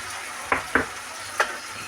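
A paste of mustard, cumin and green and dried chili fries in a pan, a soft steady sizzle broken by three quick stirring scrapes close by.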